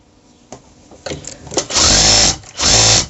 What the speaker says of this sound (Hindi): ऐसे सारी नाली की सिलाई कर लें।